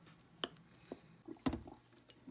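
Ground beef marinating with salt, black pepper, cornstarch and light soy sauce is mixed in a bowl, making a few soft, wet squishes and light clicks, quiet and spaced apart.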